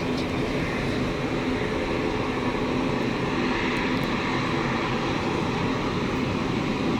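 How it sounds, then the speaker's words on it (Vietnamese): A Cargolux Boeing 747-8 cargo jet crosses the runway threshold at Tan Son Nhat airport, its engines giving a loud, steady broadband roar that holds at constant level throughout, with no talk. "Và bây giờ máy bay đang cắt ngang qua đầu đường băng rồi."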